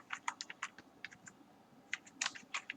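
Code is typed on a computer keyboard in quick, light clicking bursts with short pauses between them. The keystrokes sound close but quiet against a faint background.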